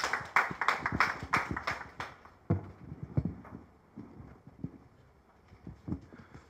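Scattered hands clap in a lecture hall after a talk on social economy and village jobs, sharp claps at first that thin out into sparse, irregular pats.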